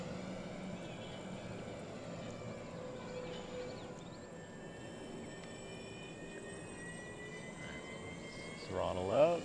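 An XFly-Model Twin Otter RC plane flies with its twin electric motors whining steadily through the air, holding a continuous drone at moderate distance before the pitch rises as the throttle comes up near the end, with voices heard faintly underneath.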